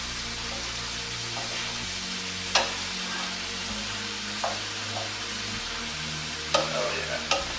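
Onions sliced into rings are stirred in a pot for jambalaya, giving a steady close sizzle with a few sharp scrapes and clinks of the spoon against the pot; no one speaks.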